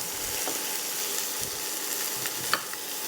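Butter sizzling in a pan as onions start cooking for Salisbury steak, a steady soft crackle with faint scattered pops, fairly quiet and without voices.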